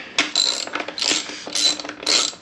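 A hand ratchet with an 8mm socket tightens bolts on a Kawasaki KLX140RF dirt bike, giving four quick bursts of close, crisp clicking in a steady back-and-forth rhythm.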